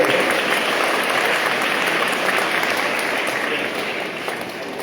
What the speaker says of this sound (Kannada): ಸ್ವಲ್ಪ ಜೋರ ಚಪ್ಪಾಳೆ ತಟ್ಟುತ್ತಾರೆ.